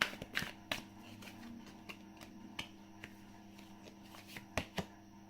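Tarot cards being shuffled by hand, with sparse, crisp card flicks and taps scattered irregularly over a faint room hum and no talking.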